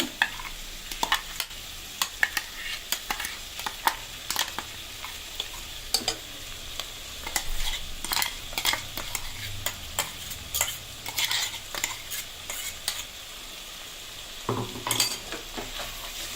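Onion and green chilli paste fries and sizzles steadily in a pan of Salem-style chicken curry, with frequent scraping and clinking as a spoon stirs it, close and fairly loud with no talking.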